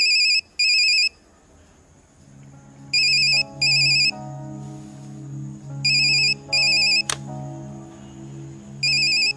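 A telephone rings in repeated electronic bursts, two rings at a time with pauses between, loud and close over quiet background music; no talk.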